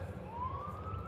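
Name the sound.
police siren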